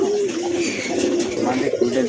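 A pair of pigeons cooing in soft, steady, throaty murmurs, continuous and fairly close, with a faint bit of human voice underneath.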